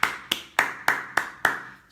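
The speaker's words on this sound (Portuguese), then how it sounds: "As palmas" Six sharp, single hand claps, close and evenly spaced at a steady, brisk rhythm, each a crisp snap with a short decay, alone with no talk.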